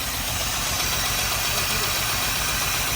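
A BMW E30 engine running just after starting from eight years sitting, a steady dense rumble with a hissy, noisy roar throughout, loud and close.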